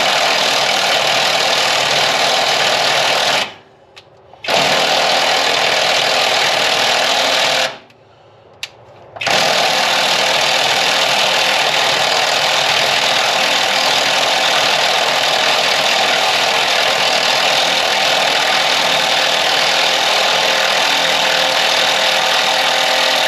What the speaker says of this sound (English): that's just a little cheap Harbor Freight Bauer 3/8 impact, and she took that old rusty thing out of there